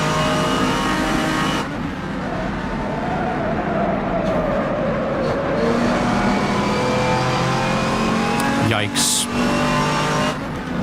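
GT race car engine at Brands Hatch in a racing sim set in 1986, a loud sustained roar that rises and falls through gear changes, with a brief tire squeal and someone talking over it.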